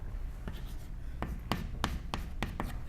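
Chalk or pen strokes while a function graph is drawn during a physics lecture on forced oscillations: a series of about eight short, crisp scratching taps in an uneven rhythm, close and fairly quiet over a steady room hum, with no talking.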